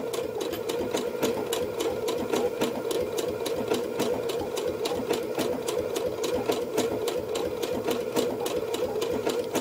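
A domestic sewing machine stitches an appliqué on fabric, a fast, even needle rhythm with a steady motor hum that runs continuously at moderate volume.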